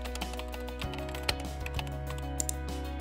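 Quiet keystrokes on a computer keyboard tap out a search in a Chrome browser bar, irregular light clicks over a steady background hum.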